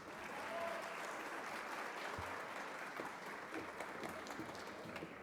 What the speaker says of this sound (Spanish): Les pido un aplauso para el doctor Francisco García Rodríguez.